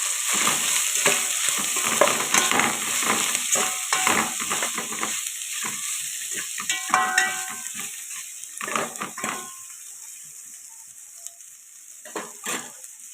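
Prawns fry in a pan with coriander powder and biryani masala, a loud close sizzle broken by repeated clattering stirs and scrapes of a spoon against the pan.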